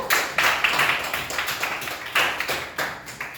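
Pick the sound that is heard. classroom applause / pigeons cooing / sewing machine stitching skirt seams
classroom applause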